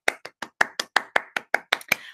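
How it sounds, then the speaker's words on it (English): Eleven separate claps ring out in a steady, quick rhythm, close and crisp, as an audience at a school celebration assembly applauds dancers. "So can we give them a clap"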